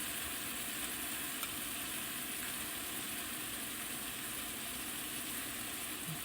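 Chicken sizzles in a pan while being sautéed for a creamy chicken fettuccine, a continuous, even frying hiss with no talk.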